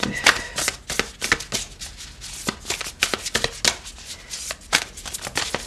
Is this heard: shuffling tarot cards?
yes